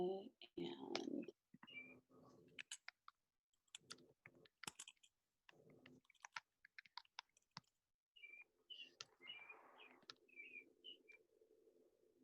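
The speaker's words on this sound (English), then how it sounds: "There are birds in the background." Birds chirp in short bright bursts throughout, sometimes alongside soft clicking and tapping sounds, with a low hum in the background.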